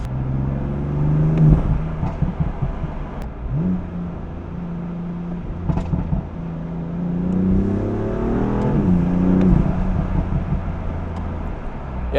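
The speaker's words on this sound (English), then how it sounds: "God, the intake sounds so good though." BMW M4 Competition with a stage 1 tune accelerating hard in second gear, its intake and engine note droning and rising in pitch through repeated pulls, close and loud inside the cabin with no talk.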